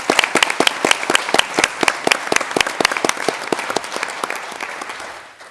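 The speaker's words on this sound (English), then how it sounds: "round of applause for Amina." Hearty applause at a high school board meeting for a departing student, dense and close with many crisp individual claps throughout, tapering off at the end.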